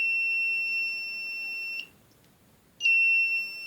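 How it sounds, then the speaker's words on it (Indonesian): A security alarm set off by removing a magnetic door sensor, sounding as a shrill steady electronic beep that stops for about a second and then resumes, close by with no talk. "jika magnetik dilepas, alarm akan berbunyi"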